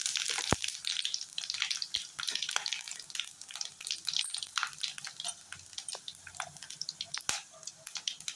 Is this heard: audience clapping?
no